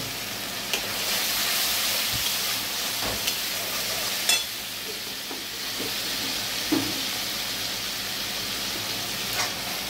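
Spice paste with chilli, cumin and coriander powder sizzling steadily in a pan, a constant dense frying hiss with a few light stirring clicks, close and fairly loud, with no voices.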